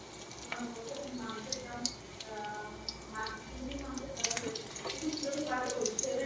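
Egg spread across a hot pan with a spoon for an egg roll, a soft continuous sizzle with scraping stirs underneath as someone talks over it.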